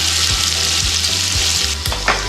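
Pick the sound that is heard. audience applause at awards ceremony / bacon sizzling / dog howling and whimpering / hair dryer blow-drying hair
bacon sizzling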